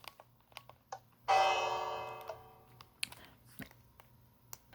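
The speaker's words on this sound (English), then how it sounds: "So here's the locomotive there, with a working bell." A locomotive bell in the Minecraft video game strikes once with a bright metallic ring that decays over about two seconds, surrounded by scattered clicks and taps.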